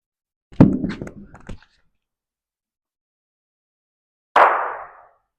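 Lawn bowls knock together on a bowls rink: a sharp clatter of several quick clicks as a fired bowl scatters others, then a single solid knock a few seconds later, each ringing out alone in quiet surroundings.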